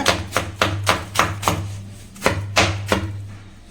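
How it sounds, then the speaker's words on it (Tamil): A knife chops apple into small pieces on a cutting board for a mixed fruit jam, giving crisp, evenly spaced thuds at close range. The rhythm pauses briefly at the midpoint and then resumes. "நம்ம வந்து பொடிஸாக வந்து பார்த்தீங்கன்னா கட் பண்ணிக்க போகிறோம்."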